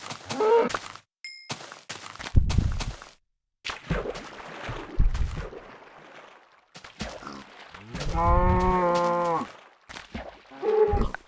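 A long, low harmonic cow moo in Minecraft stands out among scattered clicks and dings, with shorter bursts of sound before and after.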